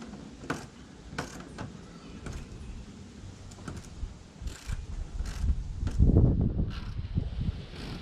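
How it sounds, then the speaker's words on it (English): A bolt is tightened into a plastic splash guard on a 2022 Ford Maverick with a power tool: repeated short, close whirring and ratcheting bursts with clicks and plastic creaks, growing louder toward the end. "Let me tighten up the one in the hole that we just created in the plastic piece."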